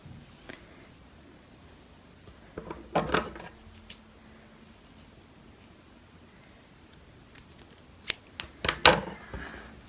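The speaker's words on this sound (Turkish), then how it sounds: "Biraz uzun keselim ipimizi." Scissors snip yarn for a striped knitted hat, giving a couple of faint, isolated cuts early on and then a quick cluster of sharp clicks near the end, with quiet rustling between them.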